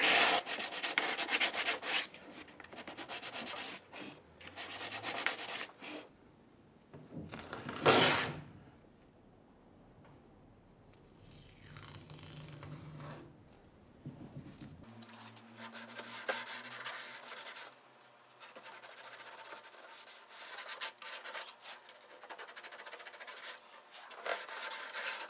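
Fine 400 grit sandpaper rubbing by hand on the wooden body of a 10-string classical guitar, several bursts of steady scratchy strokes with short pauses between, close and fairly loud.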